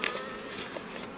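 Bees inside a small hive box during newspaper-method combining, giving a faint, steady insect hum with a few light rustles, no voices.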